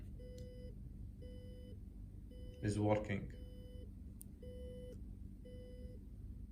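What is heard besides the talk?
low battery buzzer beeping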